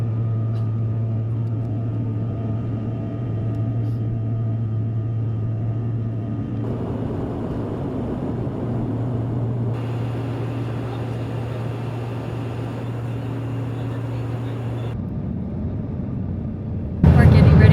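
Steady low cabin drone inside a small CRJ 200 regional jet in flight, a constant hum and rumble with shifting broadband hiss, continuous throughout and ending in a brief louder burst.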